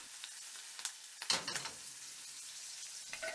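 Butter, water, sugar and a pinch of salt cooking over low heat in a small covered pan, giving a soft steady sizzle with a few brief clinks and stirring noises.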